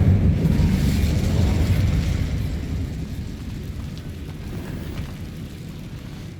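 The Incendio fire spell is cast in Hogwarts Legacy, a loud, deep whooshing roar of flame that bursts at once and then fades slowly over several seconds, alone without voices.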